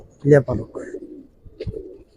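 A Giribaz pigeon coos nearby in a couple of soft, throaty bursts separated by a short pause, with faint background sounds.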